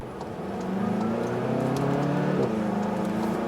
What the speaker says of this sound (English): So yeah, you can feel that turbo kicking in.